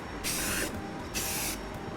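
Two bursts of spray paint hiss from an aerosol can, each about half a second, spraying inside a car to coat near the radiator, with a steady low background hum between the bursts.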